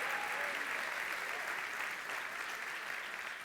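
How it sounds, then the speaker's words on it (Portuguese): A church congregation claps together in a continuous, even wash of applause, sounding somewhat distant and soft throughout. "Você pode aplaudir com força e empolgação, igreja?"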